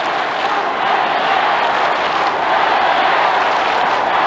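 A football crowd roars at a 1998 AFL match between Adelaide Crows and West Coast Eagles, a dense, sustained wall of stadium noise that holds steady and loud for the whole stretch.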